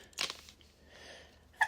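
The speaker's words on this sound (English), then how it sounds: "I'm going to sneeze" One quick, sharp human sneeze bursts out near the mic, followed by a quiet pause and a brief faint sound.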